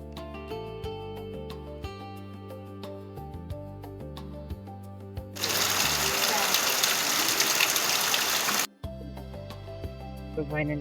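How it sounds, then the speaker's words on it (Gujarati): Heavy monsoon rain pours down with floodwater rushing through the street, a loud dense wash that bursts in midway and cuts off abruptly, set against music and voices before and after. "તમે જોઈ શકો છો પાણી જાય."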